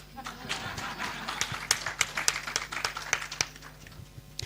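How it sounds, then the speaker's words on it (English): An audience at an influencers conference claps in a burst of sharp, irregular hand claps that swell and fade over a few seconds. "let me allow that clap."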